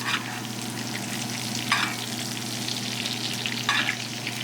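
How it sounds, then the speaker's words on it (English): Butter with a poultry seasoning blend sizzles steadily in a pan, a close continuous frying hiss with a couple of brief louder bursts of crackle, no voices. "So we're kind of infusing the butter and stuff with this."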